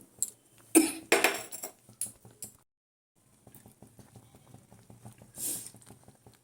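A person coughs a few times in sharp bursts, set off by chilli while making a tart jujube pickle, followed by quieter light clattering and tapping nearby.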